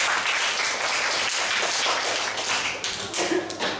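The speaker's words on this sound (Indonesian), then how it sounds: "Tepuk tangan untuk semuanya." Classroom applause from students, a fairly close patter of many hands clapping continuously, with a few louder individual claps and slight unevenness near the end.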